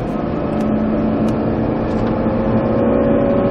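Nissan GT-R accelerating hard in fourth gear on the Chambley race circuit, a loud steady engine roar close up with wind noise, no talk.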